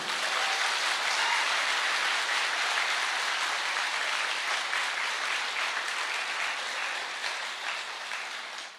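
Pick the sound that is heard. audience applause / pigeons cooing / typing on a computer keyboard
audience applause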